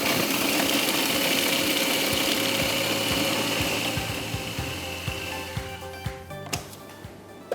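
Grinder whirring loudly as chili powder, turmeric and spices are ground into a paste; the steady motor drone fades and slows, giving way to sharp clicks and rattles as it winds down.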